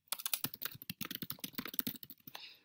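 Someone types on a computer keyboard, a quick, quiet run of close keystroke clicks in an uneven rhythm with no voices.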